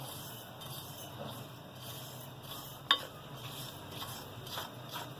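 Whole red chilies dry roasting in a pan, with a faint, steady sizzle and occasional light stirring scrapes, plus one sharp clink of a utensil against the pan.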